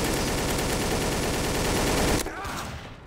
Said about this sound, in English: Who is that shooting?